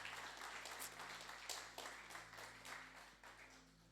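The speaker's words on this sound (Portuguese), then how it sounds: "Glorifica a Deus com as suas palmas aí" A church congregation claps together during a family worship service, a dense, steady wash of many hands that swells in bursts and fades slightly toward the end, with no talking over it.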